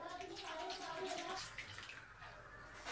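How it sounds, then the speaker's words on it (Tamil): Water pours into a pot for home-brewed grape wine, a soft continuous splashing rush, faint and close, with a voice speaking over it at times. "அந்த அளவுக்கு தண்ணியை ஊற்ற போகிறோம்."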